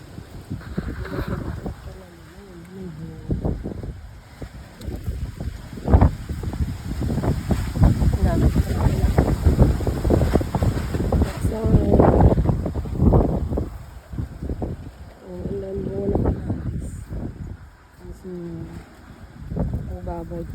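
Gusty wind blows outdoors in a garden during a rainy spell, roaring and buffeting the microphone in surges while a person talks through much of it.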